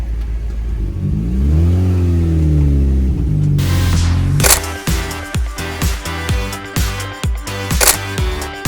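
A Deep Orange 3 car engine idles and revs up loudly nearby, then settles into a rhythmic, pulsing drive with steady repeated throbs.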